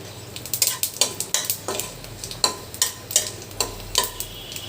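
Panch phoron spices crackle and sizzle in hot oil while a utensil scrapes and taps the pan in a steady stirring rhythm.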